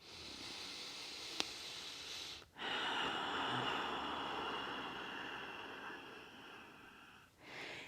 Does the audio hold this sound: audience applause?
no